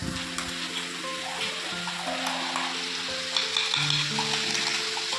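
Potatoes and onions frying in a pan as spices are tipped in, a steady sizzle with scraping and stirring knocks throughout, close and fairly loud.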